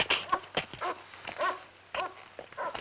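A dog whimpers and yips in short, close bursts with brief pauses between them, from a 1972 episode of the horror television series Tales from the Crypt, with no talking.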